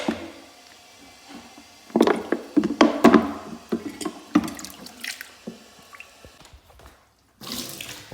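Water is scooped and bailed out of a stained toilet bowl, with irregular splashes, drips and trickles close by, loud bursts separated by quieter pauses and no talk.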